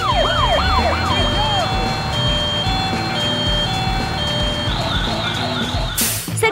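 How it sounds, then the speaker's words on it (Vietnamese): Police car and fire truck sirens wail continuously in overlapping sweeping tones, loud and close, with a brief harsh burst near the end; no talk. "Xe cảnh sát và xe cứu hỏa nhanh chóng lên đường."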